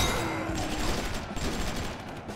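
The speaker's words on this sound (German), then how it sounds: "Können die mal aufhören, mit der Bazooka auf mich zu schießen?" Constant dense gunfire and explosive blasts from enemies firing bazookas in the game DeathSpank, a loud, unbroken barrage with no clear gaps.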